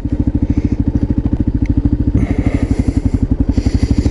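A motorcycle engine thumps in a steady, rapid rhythm close by in Alphington, loud and continuous, with a brief shift in pitch partway through as it rides along.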